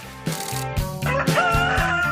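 A rooster crows loudly and close, a long sustained cock-a-doodle-doo with a few clucks mixed in, standing alone without talk.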